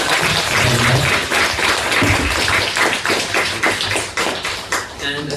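Loud, close applause from an audience at a film society screening with a director present, many hands clapping steadily with voices faintly beneath.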